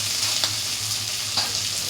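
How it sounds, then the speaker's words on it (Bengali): Ginger garlic paste frying in oil with a soft, continuous sizzle and a couple of light stirring scrapes, close and steady. "দেখো তেল ছেড়ে দিয়েছে আমার আদা রসুন বাটা যেটা দিয়েছিলাম ভাজা ভাজা হয়ে গেছে"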